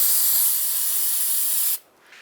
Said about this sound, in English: Just use some brake parts cleaner.